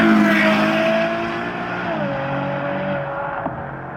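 Ferrari GTC4 Lusso V12 with a Ryft exhaust roars loudly up close, its strong engine tone sustained and then settling into a steadier, slightly lower drone, with no talk.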